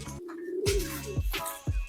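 A racing pigeon coos close by in a few short, throaty phrases with brief pauses between them, clear and alone.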